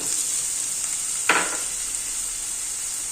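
Green garlic and green onion hit hot oil while stir-frying for Manchow soup, giving a steady high sizzle with one sharp hissing burst midway as the greens go in.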